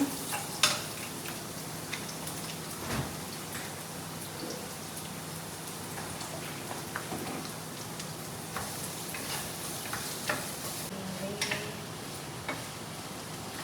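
Carrots fry in a pan for a chicken vegetable stir fry, a steady close hissing sizzle running throughout with occasional sharper clicks and scrapes of stirring; no one speaks.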